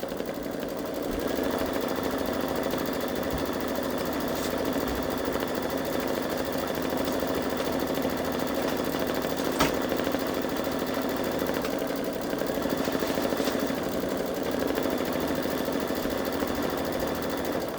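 A Babylock Solaris Vision embroidery machine stitches a butterfly design on a long-sleeved garment, giving a steady, continuous mechanical whir with a fast rhythmic needle chatter that holds close and even throughout, broken only by occasional faint clicks.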